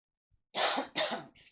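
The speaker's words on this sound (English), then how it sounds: "All of a sudden I got a little cough." Two sudden, sharp coughs close to the microphone, followed by a short breathy throat sound.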